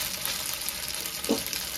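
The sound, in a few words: chicken pieces being stirred and fried in oil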